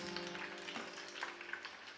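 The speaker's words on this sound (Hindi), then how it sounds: "इसलिए थोड़े थोड़े करके हम इसमें पीसेस डालेंगे और उन्हें फ्राई करके साइड पर निकाल लेंगे" Paneer pieces fry in hot oil, giving a soft, steady crackle and sizzle with tiny pops, faint and close, no voices over it.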